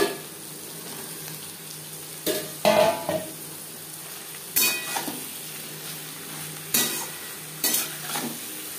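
Fish roe and eggplant frying in a pan with spices and onion, a soft continuous sizzle under repeated sharp scrapes and clacks of a spatula stirring against the pan.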